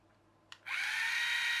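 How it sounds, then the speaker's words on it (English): An electric toy train's motor and gearbox spin up after a brief click, settling into a steady high-pitched whirring buzz close by, with no talk over it. "motor runs, that gear turns"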